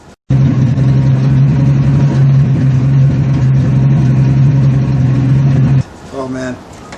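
A 1962 Ford Fairlane's inline-six engine running steadily, a loud, close, even drone that holds for several seconds and then cuts off, followed by brief talk.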